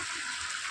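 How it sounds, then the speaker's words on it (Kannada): Water gushes steadily into a heart-shaped swimming pool, a constant hissing rush heard for just under a second. "ಇವಾಗ ನೀರು ತುಂಬಿಸ್ತಾ ಇದ್ದೀವಿ ಸ್ವಿಮ್ ಮಾಡೋಕ್ಕೆ"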